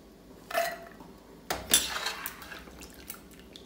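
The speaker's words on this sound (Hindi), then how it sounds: "मैं इसे एक थाल की बजाय सीधा मिक्सर ग्राइंडर में ही डाल रही हूँ।" Fried almonds are tipped straight into a mixer grinder jar in a home kitchen, giving two clattering bursts of hard nuts hitting the container. Lighter rattles trail off after each pour, with no talk.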